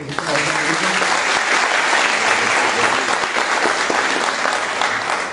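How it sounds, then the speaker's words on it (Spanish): Loud, sustained applause from an audience at a book launch honours the author Adriana; dense clapping fills the whole stretch at an even intensity, with faint crowd murmur mixed in. "un aplauso nuevamente para Adriana"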